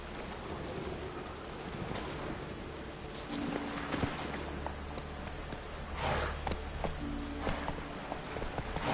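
Roach, the horse in The Witcher 3, trots with soft, irregular hoof clops under steady rain and ambient game sound on Skellige. The sound is fairly quiet and nobody speaks.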